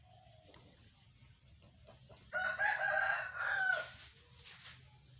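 A rooster crows loudly and close by, one long drawn-out call rising over faint background ambience, with a quieter clucking tail afterward.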